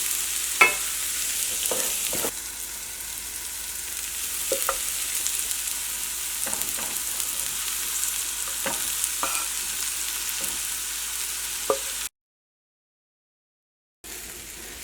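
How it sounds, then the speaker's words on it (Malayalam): Chicken sandwich filling with masala frying in a pan, a steady close sizzle broken by repeated scrapes and taps of a spoon as it is stirred, with a short silent gap near the end. "ഇനി അതിലേക്ക് നമ്മൾ കട്ട് ചെയ്ത് വെച്ചേക്കണം ചിക്കനും കൂടി ചേർത്തിട്ട് മിക്സ് ചെയ്യാം"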